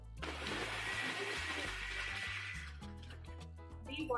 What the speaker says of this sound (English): Pour it and blend it.